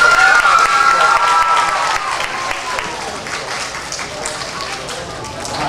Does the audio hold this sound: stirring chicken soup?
no